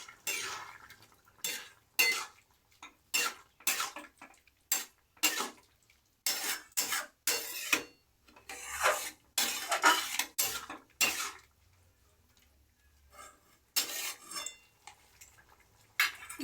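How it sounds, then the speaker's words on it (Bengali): A spoon scrapes and knocks against a pan while stirring a poppy seed and green chilli paste for veg posto, in repeated bursts of clattering strokes separated by short pauses, close and fairly loud. "এবার আমি নেড়ে নেবো।"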